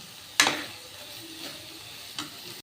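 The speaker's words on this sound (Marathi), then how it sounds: "चांगलं परतून घेऊ म्हणजे ते जेणेकरून ते चांगलं सगळेकडे मिक्स होईल" Paneer curry stirred and sautéed in oil in a pan, with a couple of distinct scraping strokes over a soft, steady sizzle, close and fairly quiet, no voices.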